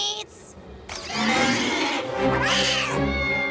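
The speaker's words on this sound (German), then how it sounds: "Oh, noch ein Kätzchen zum Erschrecken." A cartoon kitten lets out a long, loud, wavering meow up close, preceded by a short high squeak, in an animated children's show soundtrack.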